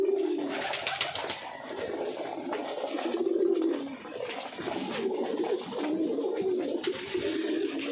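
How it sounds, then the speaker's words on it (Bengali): Domestic pigeons cooing continuously in a ceiling pigeon loft at a pigeon farm, several birds with overlapping low rolling coos close by, steady and unbroken with no talking. "সিলিংয়ের ভিতরে আমার কবুতর থাকে।"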